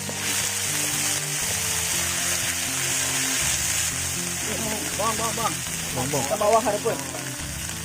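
Eel seasoned with a wild-herb spice paste frying in a pan outdoors, a steady loud sizzle throughout with bubbling crackle rising toward the end, while a person speaks briefly.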